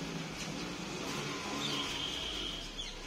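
A car engine runs steadily during a test drive of a vehicle at a newly opened garage, a constant mid-range hum with low rumble throughout and no talk over it.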